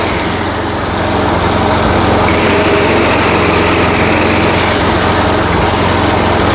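An old Craftsman walk-behind trimmer engine runs steadily at high throttle. The small motor gives a loud, continuous buzzing roar that stays close and unbroken throughout.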